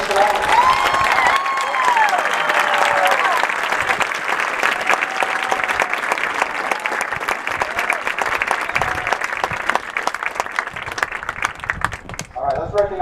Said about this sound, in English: How about a round of applause for all of our seniors tonight?